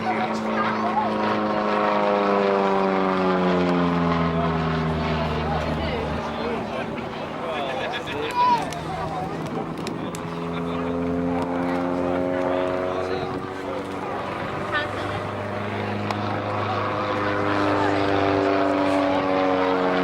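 Propeller aircraft, a Bulldog or Hawker Hurricane, flying an aerobatic display at the Southport Air Show: a continuous droning engine whose pitch rises and falls as the plane manoeuvres, heard under steady commentary.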